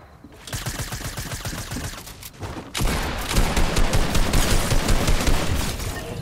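Exotic burst pulse rifle firing rapid bursts of shots in a video game, loud and dense crackling volleys, a shorter burst followed by a brief pause and then a longer sustained barrage.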